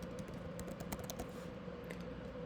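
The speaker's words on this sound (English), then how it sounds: "I'm going to type in life insurance" Keys clack on a computer keyboard as entries go into a budgeting spreadsheet, a continuous run of close, crisp taps over a steady background hum.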